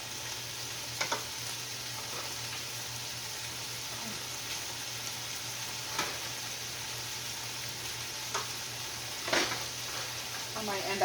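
Rice is stirred and broken up in a frying pan, a low continuous sizzle with a few soft spoon taps and scrapes scattered through it.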